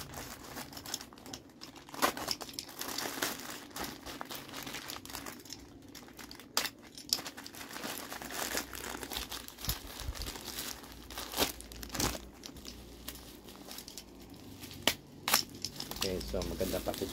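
Bubble wrap packaging crinkles and crackles steadily as a package of NBA trading cards is opened, with irregular rustling and tearing bursts throughout while a person talks over it.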